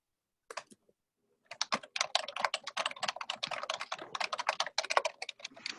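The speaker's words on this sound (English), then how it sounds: "Somebody's got a mechanical keyboard besides me. I hear it." Fast, steady typing on a mechanical computer keyboard during an online volunteer call: a few isolated keystrokes, a short pause, then a dense, continuous run of crisp clicks, close and fairly loud, with no talking.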